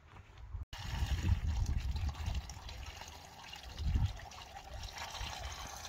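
Water poured into the cooling system of a van during a coolant check, a steady gurgling flow with low splashing surges, close and fairly loud, with no talk.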